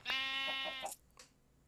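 A brown sheep bleats once in Minecraft Oneblock, a loud, close, wavering game bleat lasting under a second, followed by faint short sounds and near quiet.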